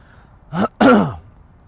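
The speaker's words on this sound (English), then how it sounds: "Sorry about the cough." A single short throat-clearing cough, two quick rough bursts, close and fairly loud, then quiet.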